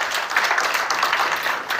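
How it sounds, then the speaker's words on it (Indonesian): Congregation applauding during a Palm Sunday church service, a steady wash of many hands clapping at moderate level throughout the short burst, with no voices standing out. "Tepuk tangan bagi Yesus."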